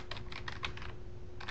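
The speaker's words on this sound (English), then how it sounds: "And so I can start just by typing in a term that I'm looking for." Someone types a search term on a computer keyboard: a quick run of light, close keystroke clicks over a steady low hum. There is a brief pause before the last couple of taps. No voices.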